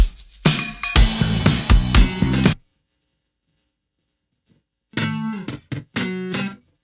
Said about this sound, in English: Hear that guitar.